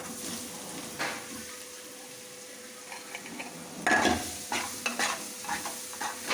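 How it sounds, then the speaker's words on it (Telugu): Paneer cubes fry in oil in a pan with a continuous low sizzle, broken by louder scraping and clattering stirring strokes in the latter half. "పన్నీర్ని ఆయిల్లో వేయించుకోవాలి కొంచెం ఎర్రగా"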